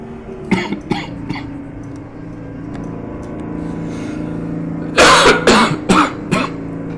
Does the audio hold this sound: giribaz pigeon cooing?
no